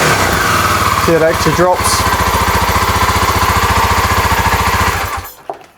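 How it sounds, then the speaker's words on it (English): A cheap running motorcycle engine revs loudly and close up, holding a steady throbbing drone for about five seconds before cutting off abruptly, with someone talking briefly over it. "If I rev the bike out now"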